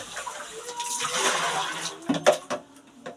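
Water pours and gushes into a clogged toilet bowl in a steady broadband wash. Near the end it gives way to a few louder splashes and a gurgle as the water drains.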